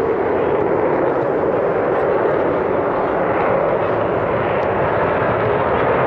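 An F-18 jet roars at the Reno air races, a loud, steady, broadband engine rush that holds evenly throughout with no speech over it.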